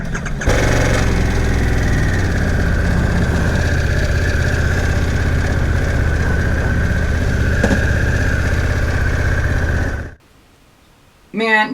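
Harley-Davidson Pan America motorcycle engine starting and running, a loud, close, steady idle with a droning hum that holds for about ten seconds, then cuts off abruptly into near silence before a brief burst of sound at the end.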